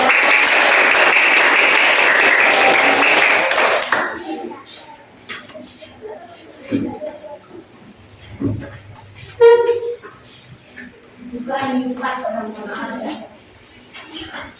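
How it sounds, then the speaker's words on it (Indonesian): A classroom of children applauds a presenting group in a loud, dense burst of clapping for about four seconds, after which it stops and a teacher and children talk more quietly. "Ya, tepuk tangan untuk kelompok 3."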